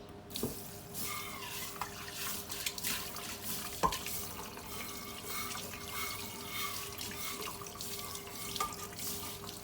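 Water runs steadily from a tap into a sink during washing, with continuous splashing, scattered drips and a few louder knocks and clinks, close by and without talk.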